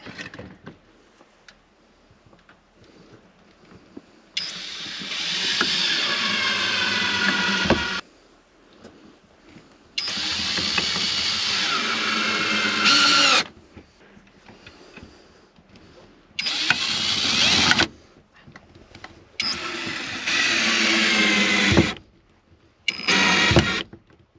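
Power drill driving screws during DIY home work, several loud whirring bursts of a few seconds each separated by quiet pauses, the motor revving up and stopping repeatedly, close to the listener.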